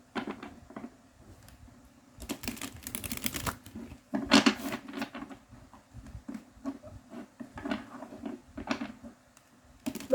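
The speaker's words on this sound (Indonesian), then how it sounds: "di sini aku akan coba shuffle kartunya untuk kamu ya" Tarot cards shuffled by hand, a series of crisp riffling and flapping bursts with soft pauses between, close and moderately loud.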